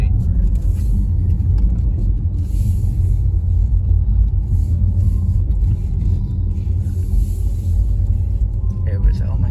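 A 2021 Porsche Taycan Turbo S speeds through narrow streets, heard from inside the cabin as a loud, steady, deep road-and-motor rumble that stays constant throughout.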